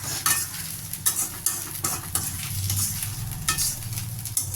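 Pirandai thuvaiyal being stirred and scraped around a frying pan, with repeated sharp scrapes and clinks of a utensil over a low steady sizzle, close and fairly even, with no talk.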